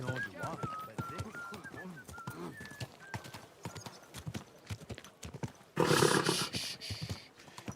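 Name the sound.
horse in video game Kingdom Come Deliverance 2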